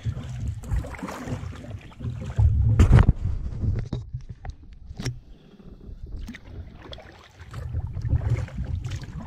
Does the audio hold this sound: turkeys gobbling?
no